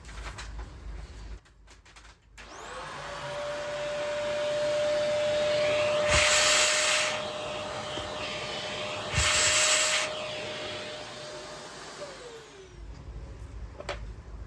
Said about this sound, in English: I'm going to vacuum this one more time, but while the grind fan is in there.